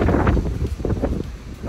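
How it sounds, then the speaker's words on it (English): Strong wind buffeting a microphone outdoors during a walk, a low rumbling roar with gusty swells, with faint talk underneath. "It is very windy."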